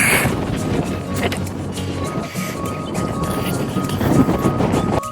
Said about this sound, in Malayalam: നല്ല കാറ്റെന്ന് പറഞ്ഞാൽ നല്ല കാറ്റ്